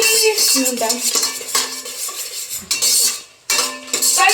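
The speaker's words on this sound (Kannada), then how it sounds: "ಇಟ್ಕೊಂಡಿರೋ ಎಲ್ಲ ಮಸಾಲಾನ ಇದಕ್ಕೆ ಡಂಪ್ ಮಾಡಿರಿ ಫ್ರೈ" A spoon scrapes and clinks repeatedly against a pan as masala spices fry in ghee, with quick irregular stirring strokes and a light sizzle underneath.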